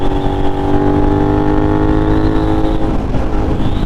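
A Suzuki SV650 motorcycle pulls hard at around 80 mph on a night highway ride, its engine a loud, steady droning roar with rising pitch, mixed with wind rush throughout.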